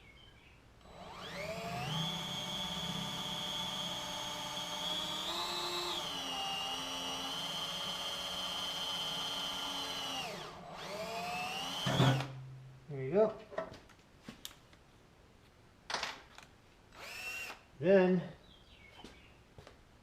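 A power drill whirs steadily for about ten seconds, boring a 25/64-inch hole in a trailer, its pitch rising as it spins up, then stops; a person speaks briefly afterward amid clicks.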